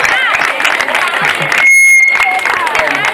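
Audience applause at a community event for a campaign against violence toward women, greeting a visiting muralist; steady, fairly loud clapping fills the room for about three seconds, with voices mixed in.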